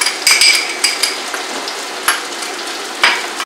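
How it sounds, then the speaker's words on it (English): Egg and fried onion being stir-fried in a very hot pan for shrimp pad Thai, a steady sizzle broken by sharp scrapes and clanks of a utensil against the pan, close and loud. "After that, you can stir fry."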